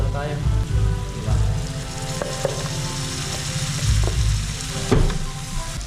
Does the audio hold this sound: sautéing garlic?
yes